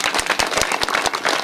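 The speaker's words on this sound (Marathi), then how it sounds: "टाळ्या वाजवा जोरदार" Audience clapping loudly at a Marathi kirtan, a fairly faint, quick rhythmic series of claps repeating steadily.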